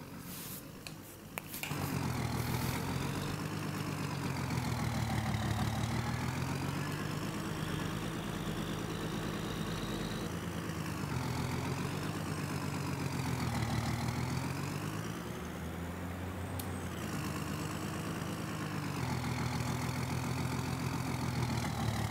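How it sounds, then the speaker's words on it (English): A tractor engine idles in Farming Simulator 22, a steady mid-low rumbling drone with a slow swelling and easing in pitch, close and unbroken for the whole stretch after a brief clatter at the start. "we'll go find a tractor to do this job"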